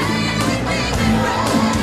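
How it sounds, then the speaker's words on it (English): Boxing arena crowd at the Holyfield vs Tyson fight roaring steadily, a dense, loud wall of cheering and whoops with no pauses. "This crowd explodes."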